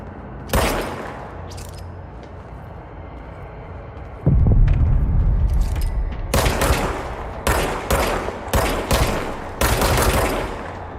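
Bursts of gunfire from a weapon in the video game Control, several sharp loud volleys with brief pauses between them over a low rumbling background.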